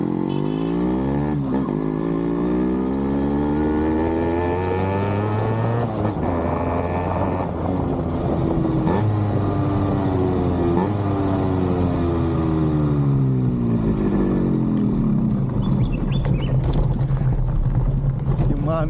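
An old Yamaha RX100 motorcycle runs on the road, its engine droning loud and steady with pitch rising and falling as it is ridden and revved, while people talk over it.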